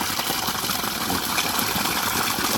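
An electric water pump motor runs steadily on a farm, a continuous dense hum with broadband noise, close and loud with no break throughout.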